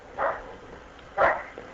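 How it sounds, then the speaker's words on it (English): A small dog gives two short, sharp barks about a second apart, fairly close and moderately loud, with a faint whimpering yip trailing after; no talking. "my little dog, he likes to bark"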